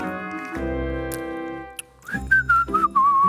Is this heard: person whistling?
yes